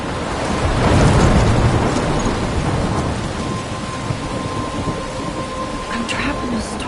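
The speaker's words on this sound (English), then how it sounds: "I'm trapped in a storm?" A thunderstorm in the video game Life is Strange: a heavy rumble of thunder rolls loud and close over steady pouring rain, then eases into continuous rainfall.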